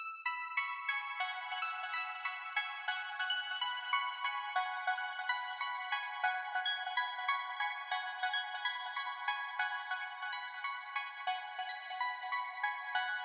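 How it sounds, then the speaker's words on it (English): Two quiet tracks of synth plucks from an electronic song play alone in a steady, evenly pulsing rhythm of bright, short notes with no voices. "However, this time around, there's only 2 tracks of plucks, and they're a lot quieter."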